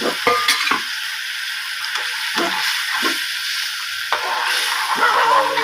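Masala is stirred in a pan just after water is poured in, giving a steady wet scraping and sizzling bed with several distinct spoon scrapes and clinks against the pan, close and fairly loud, with no voices.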